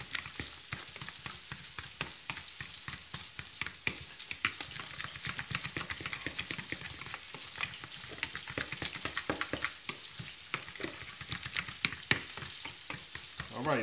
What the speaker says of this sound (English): I'm just mashing that up, mixing it around.